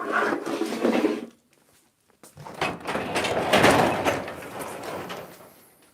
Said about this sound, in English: Crack the garage door.